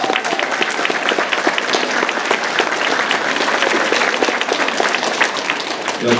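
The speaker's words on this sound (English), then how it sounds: "So if we get a round of applause for Keegan, for Shay, and for Alex." Audience at a school band concert applauding the percussionists, a steady full wash of clapping from a sizable crowd that holds at the same level from start to finish.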